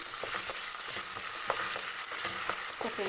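Tomatoes sizzle and fry in a hot pan while a vegetable kichadi cooks, a steady crackling hiss with occasional stirring scrapes, close and continuous with no talk.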